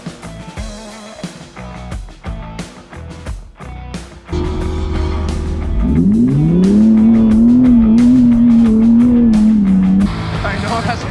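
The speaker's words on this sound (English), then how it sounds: "side-by-sides blasting donuts on the ice, and the sound of revving engines echoing through the cold air" Side-by-side off-road machines doing donuts on snow and ice rev their engines loudly and close, the pitch rising into a sustained high whine after a stretch of choppy, bursty engine noise.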